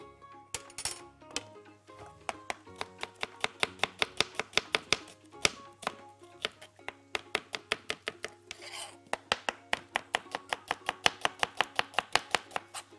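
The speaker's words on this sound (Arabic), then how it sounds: "قطعنا البصل" Rapid knife chops through onion on a cutting board, a long run of sharp, evenly spaced taps close up, with a brief pause and a rustle midway before the steady chopping resumes.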